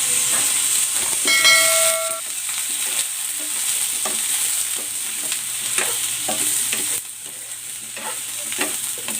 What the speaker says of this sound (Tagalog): isasalang ko muna itong pinya para mag-caramelize ito